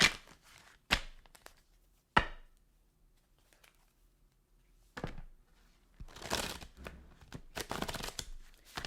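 A purple deck of playing cards being shuffled close by, with a few sharp isolated snaps early on, then a longer stretch of crisp riffling and flapping near the end.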